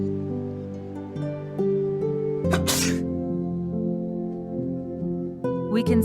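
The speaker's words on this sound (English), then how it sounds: "First, sneezing." A sneeze in a droplet-detection experiment, one short sharp burst near the middle standing out over a steady tonal background.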